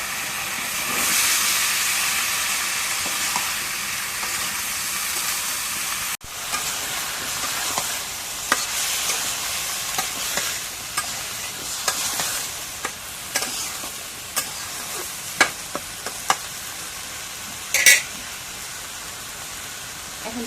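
Spice paste sautéed in a pan for a vegetarian potato, eggplant and okra dish, with a steady frying hiss and scattered sharp clicks of a spoon stirring against the pan; a faint voice comes through at times.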